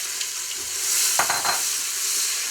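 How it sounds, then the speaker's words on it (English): Chopped large onion dropped into a pan of heated olive oil and butter, a steady bright sizzle that swells in the middle with a few soft stirring scrapes, close and without speech. "I've got a little of olive oil and butter heated in a pan. I'm going to add one large onion that I chopped,"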